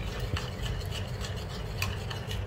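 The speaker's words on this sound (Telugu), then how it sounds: "వీటన్నిటినీ కూడా ఇలా చక్కగా కలుపుకుంటాం." Papaya face wash and soapnut juice being stirred together in a bowl, giving a soft, steady wet scraping and swishing with a few light clicks against the bowl, close and quiet, with no voices.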